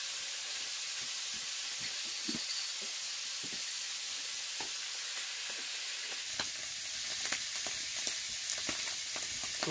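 Food frying in a pan, a steady close sizzle and hiss with occasional clicks and stirring sounds, heard alone.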